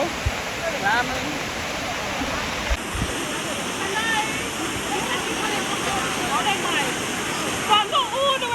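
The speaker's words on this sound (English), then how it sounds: "we are at the Duns River Fall. We're gonna enter the waterfall." Dunn's River Falls in Jamaica sends up a continuous loud rush of cascading water with occasional splashes, while people nearby talk and call out over it.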